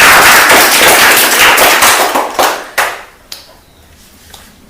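Applause at a government primary school event: a group claps loudly and densely at first, then the clapping thins into a few scattered claps and fades out.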